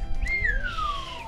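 One sharp race-start whistle with a rising then slowly falling sliding pitch, loud and close, lasting about a second on an outdoor hike with no talking.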